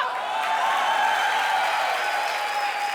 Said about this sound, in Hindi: वो लोग मेरे लिए ताली बजा रहे हैं।